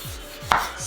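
Kitchen knife cutting a large tomato on a board for ceviche, two or three soft cutting strokes with one sharper knock against the board midway, close and alone.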